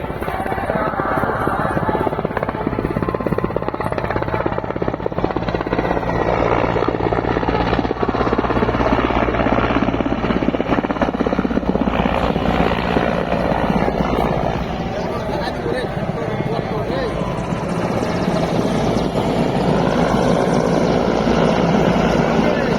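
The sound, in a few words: helicopter flying overhead patrolling temple area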